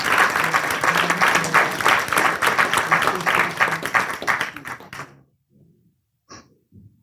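Audience applause at a panel discussion, with a crowd clapping steadily and fairly loud for about five seconds before it cuts off abruptly, leaving near silence broken by a few faint scattered sounds.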